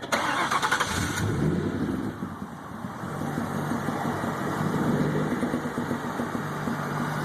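A 1927 Ford Track T engine cranks briefly with a loud whirring starter, then catches and settles into a steady, rumbling idle close by, with no talking.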